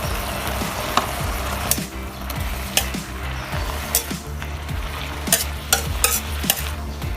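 Napa cabbage and pork being stir-fried in a pan, with steady loud sizzling and repeated scraping strokes of a spatula, roughly one or two per second, with no talk.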